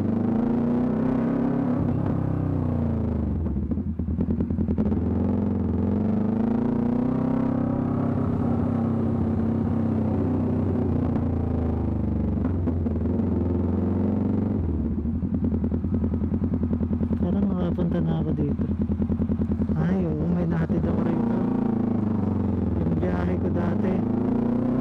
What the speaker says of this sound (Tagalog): sobrang ingay ng tambucho ng exhaust ko